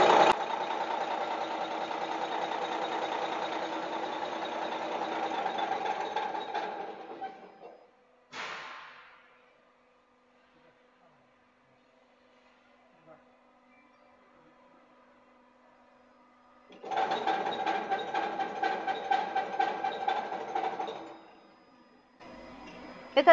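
DTS 619 diesel injection pump test bench running with a rapid mechanical rattle, stopping after several seconds, a brief burst, a quiet gap, then starting again before cutting off.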